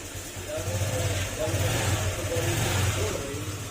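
Honda Click 150 scooter engine held at a raised idle during throttle position sensor work in a repair shop, a steady mid-pitched hum with slight rises, close by and continuous.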